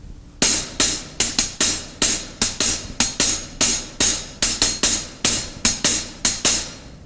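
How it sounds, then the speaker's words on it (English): A hi-hat plays a one-beat ostinato pattern slowly in a metal drumming lesson. Crisp cymbal strokes come up close in evenly spaced groups, each with a short sizzling decay, and no voice. "So very slowly, what we'd have on the hi-hat would be this."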